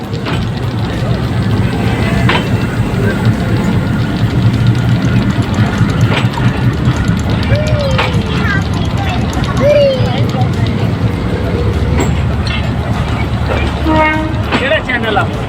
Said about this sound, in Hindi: पाँच मिनट स्टॉपेज के बाद जाफर एक्सप्रेस डिपार्चर के लिए तैयार हो चुकी है